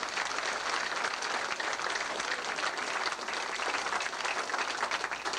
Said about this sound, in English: How about a round of applause for Ellis?